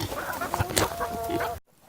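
Chickens cluck and murmur close by in a hot farm livestock area, a busy run of short overlapping calls for about a second and a half before dropping to near silence.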